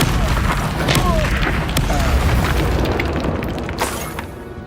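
A Confringo fire spell explodes in the video game Hogwarts Legacy, a loud booming blast with crackling bursts amid dense, busy game sound.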